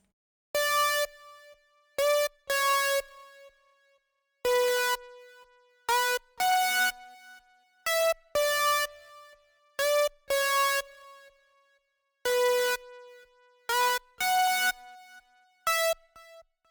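A bright, buzzy synth preset, Electric Ant, plucks out a choppy, rhythmic melody in short stabs and held notes, dry with no reverb or effects, playing alone.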